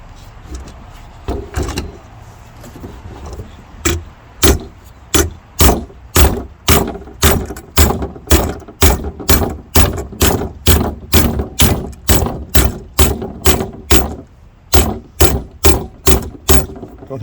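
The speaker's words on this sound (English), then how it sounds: "Start hammer forming that over." A hammer strikes clamped sheet metal being formed into a GT6 airbox. The blows are sharp, loud and close, falling in a fast, steady rhythm of roughly two per second after a few scattered opening hits.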